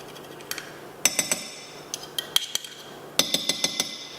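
A metal garlic press crushes garlic cloves nearby with a run of sharp metallic clicks and clanks in irregular bursts, fairly quiet, with no speech.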